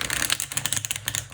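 A standard-size Crow's Magic tarot deck is shuffled close up, its slippery cards producing a rapid ruffling patter of crisp clicks and flutters.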